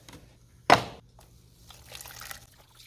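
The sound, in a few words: pouring used Evapo-Rust liquid into container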